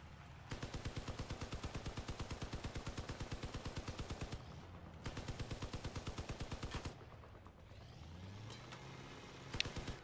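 Rapid automatic gunfire from the vehicle combat video game Crossout, two long bursts of steady rhythmic shots separated by a brief pause, followed by engine and mechanical whirring with a sharp click near the end.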